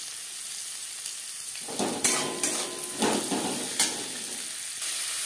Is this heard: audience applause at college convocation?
no